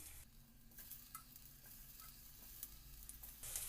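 Raw banana pieces sizzle steadily in hot mustard oil in a kadhai, a low continuous crackle with a few light clinks and scrapes, close and unaccompanied by talk.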